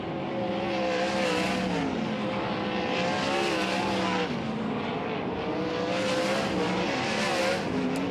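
Sprint cars circling a dirt oval at Wayne County Speedway during hot laps, engines roaring continuously with pitch rising and falling as the cars pass in waves, loud and sustained.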